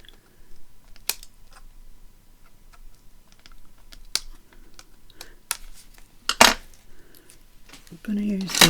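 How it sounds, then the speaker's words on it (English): Release tape being peeled off Tim Holtz craft pieces, with sparse sharp clicks and ticks of handling spread across the clip, a stronger crackling snap near the middle and a louder rustling tear at the end, close and quiet. "I'm going to take the release tape off these because it's just making it too thick"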